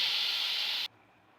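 Vegetables seasoned with salt and turmeric fry in a pan for chicken chow mein, giving a loud, steady hiss that cuts off abruptly after under a second.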